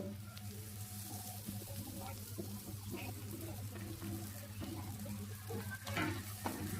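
Chow mein noodles with green chillies are stirred and sizzling in a pan for egg chowmein, with steady frying hiss, scraping stirs and occasional clatter, fairly quiet, with no talking.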